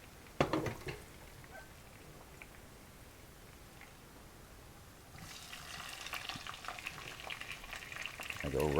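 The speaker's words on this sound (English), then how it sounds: "I'm going to add now about half of the potatoes." Potatoes frying in olive oil in a pan with sautéed garlic, a soft steady sizzle heard alone, with a rustling clatter near the start and a brighter, livelier crackle building through the second half.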